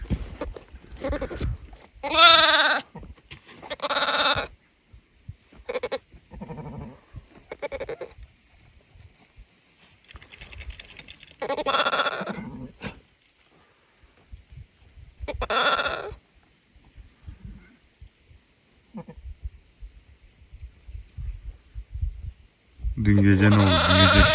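Newborn lambs and ewes bleat repeatedly in a barn, loud close calls arriving in irregular bursts with quiet gaps between, a person's voice occasionally heard among them.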